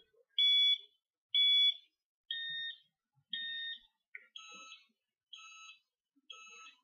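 Electronic beeping tones from an MSP43 touch synth, seven short evenly spaced beeps whose pitch shifts from one pair to the next, clear and alone against silence.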